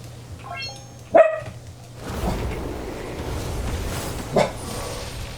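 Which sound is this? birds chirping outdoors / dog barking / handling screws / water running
dog barking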